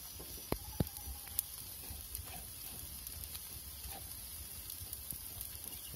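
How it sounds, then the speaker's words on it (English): A pizza cooks in a DIY wood-fired oven, a faint steady sizzle and crackle of fire with occasional sharp pops and ticks. "So here's the pizza cooking away."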